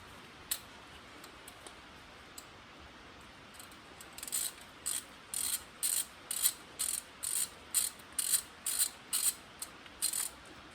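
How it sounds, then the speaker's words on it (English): A tap cuts threads into an aluminum cylinder head with a run of sharp, evenly spaced clicking ratchet strokes, close and distinct, following a few seconds of quiet. "Aluminum head, so it doesn't take much to get the threads cut."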